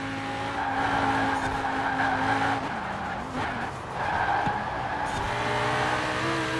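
A car in the racing game Forza Horizon 4 drives with a steady engine drone, then its tyres skid and squeal loudly through a turn before the engine note settles back in, close and continuous throughout.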